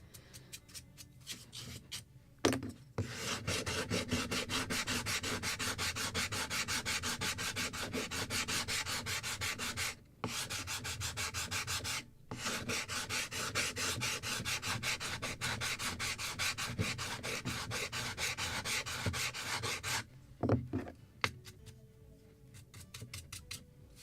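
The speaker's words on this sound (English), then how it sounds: "when I'm sanding something made out of walnut" Walnut wood planking on a model boat kit is hand-sanded in long steady back-and-forth strokes, close and continuous, with a few short pauses.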